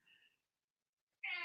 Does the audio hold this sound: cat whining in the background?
yes